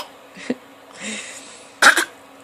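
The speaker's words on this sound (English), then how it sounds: "Are you fake coughing?" Baby girl doing a few deliberate fake coughs, short scattered bursts with a small hoarse cough early and a sharper double cough near the end, close and otherwise quiet.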